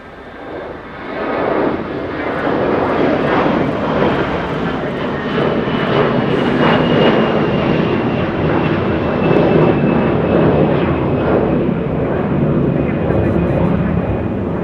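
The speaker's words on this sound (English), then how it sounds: "That's an A321 using good old 25 right for departure." Air Canada Airbus A321 jet taking off from runway 25 right at Los Angeles International, bound for Toronto; a loud roar swells in within two seconds and holds steady, with a high whine and pulsing rumble throughout.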